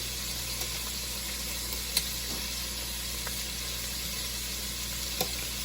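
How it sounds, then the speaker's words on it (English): Shrimp sizzle in a hot pan while being turned over, a steady, even frying hiss with a few faint clicks of the utensil against the pan. "As you see, the shrimp are cooking up. Starting to turn them, flip them over."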